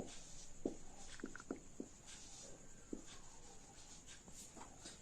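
Writing on a board while working through a maths problem about boats and currents, several soft, close taps and short scratchy strokes in an irregular rhythm, faint and quiet against a low background hiss.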